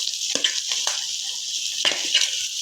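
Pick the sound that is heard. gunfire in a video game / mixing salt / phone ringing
mixing salt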